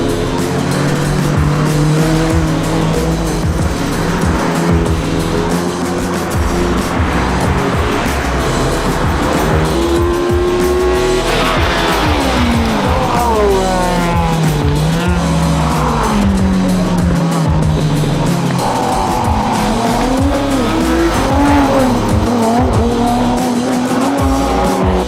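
Car lapping a race circuit at the Les Essarts car and motorcycle meet: a loud, constant engine roar climbing and dropping through gear changes, with tyre squeals in corners and other traffic sounds throughout.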